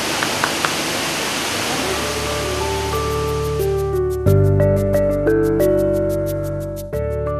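Sri Gethuk waterfall in the Gunung Sewu Geopark gives a steady broadband rush of falling water for the first few seconds, then sustained musical tones rise over it and dominate the rest.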